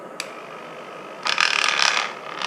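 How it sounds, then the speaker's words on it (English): A Lifelong LLM180 body massager with a poorly fitted head cover gives off a faint hum, then breaks into a loud, harsh mechanical rattle that buzzes on for over a second. "if it has not fitted properly, then it will make such noise"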